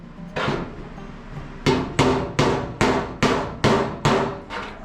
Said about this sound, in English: but I can hear it when I'm hammering.